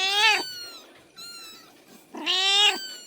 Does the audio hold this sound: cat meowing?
yes